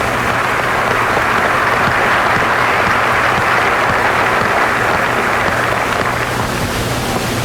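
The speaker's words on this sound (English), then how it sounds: "Give yourselves a round of applause," A large community crowd at a Plymouth basketball celebration gives itself a round of applause, a thick, continuous roar of clapping that stays loud and even throughout, with no talk rising above it.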